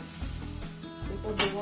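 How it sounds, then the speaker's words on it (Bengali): Garlic, ginger and onion fry in a pan, a close, loud sizzle with stirring clatter and a bright scrape near the end of a brief burst, without speech. "রসুনটা দিয়ে দিলাম, আদাও দিয়ে দিলাম। আমি ভালো করে একটু ভাজা করবো।"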